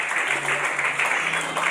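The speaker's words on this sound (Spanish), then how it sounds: "Denle ese aplauso al Señor Jesús." A church congregation applauding, a dense, steady wash of clapping close by for under two seconds, with a faint voice or tone running beneath it.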